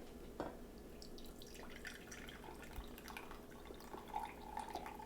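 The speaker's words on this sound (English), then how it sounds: "I'm ready to drain off the liquid" Cooking liquid from a pan of stuffed pepper filling is poured off with the lid held on, producing faint, steady trickling and dripping with a few small splashes, quiet and without talk.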